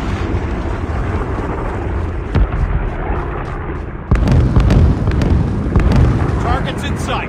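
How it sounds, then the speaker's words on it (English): Predator missile strike in Call of Duty Mobile gameplay: a loud, booming blast breaks through a continuous rumble of battle noise, with sharp pops scattered through the clip and game voice lines over the top. "Predator missile inbound."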